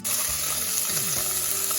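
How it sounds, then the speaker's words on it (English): Steady, dense sizzling of prawn heads frying in a hot pan for Sri Lankan prawn curry, loud and close with a hissing, crackling texture. "we're going to throw in the prawn heads and they should start to sizzle a little bit"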